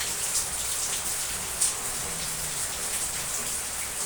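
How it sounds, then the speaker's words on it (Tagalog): Heavy rain pours down in a dense, continuous roar of drops on a hard surface, with a few sharper splashes standing out, and no voices. "Napakalakas ng ulan."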